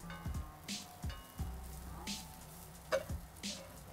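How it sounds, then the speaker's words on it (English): Cooked rice sizzles and scrapes in a hot pan as it is tossed with a little soy sauce, giving a run of short frying crackles and stir bursts, close and fairly quiet. "It's just rice being tossed around with a little bit of soy sauce."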